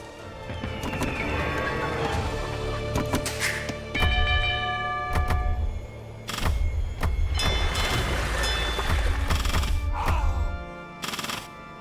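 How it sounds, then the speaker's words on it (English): The town bell rings in Age of Empires II: Definitive Edition, repeated bright metallic clangs over a steady game soundscape with horse hooves and battle noise. "Click your town centre, then click town bell."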